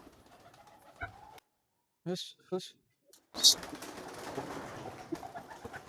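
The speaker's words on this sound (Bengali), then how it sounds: "আরে এই যে সাদা পায়রাটা" Pigeons, among them a white one, coo in a few short throaty bursts near the middle, set against a quiet background that turns noisy and busy afterward.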